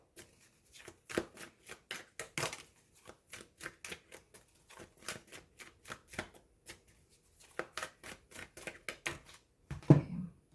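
Tarot cards being shuffled close up in quick bursts of crisp clicks and riffles, pausing briefly between runs, then ending with a soft thump.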